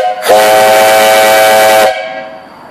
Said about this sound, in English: Whistle's really good. I'll blow it here, so turn down your volume.